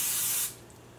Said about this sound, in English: I've never sprayed Pam into a cup like that.